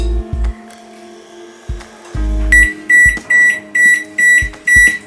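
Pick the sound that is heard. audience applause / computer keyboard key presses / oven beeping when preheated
oven beeping when preheated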